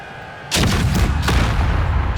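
Artillery guns fire on a battlefield in Empire: Total War, a sudden heavy boom followed by a second close blast, loud and rolling with no talk.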